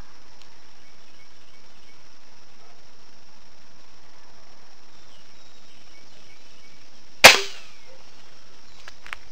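A Crosman F4 Nitro .177 caliber air rifle fires a pellet with one sharp, close crack that fades quickly, preceded by a long quiet stretch with faint outdoor hiss.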